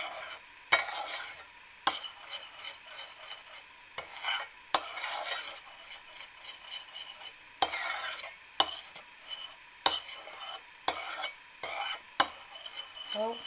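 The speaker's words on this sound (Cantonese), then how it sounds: "然後攪勻佢啦， 攪勻勻佢" Chocolate cake mixture with orange liqueur stirred in a bowl, a close sequence of irregular scraping and clinking strokes, each sharp onset followed by a softer swish, repeating about every second.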